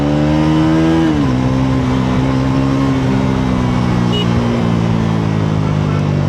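A Bajaj Pulsar NS400z motorcycle engine drones while riding, loud and close with a steady tone that shifts pitch slightly early on, under rushing wind noise.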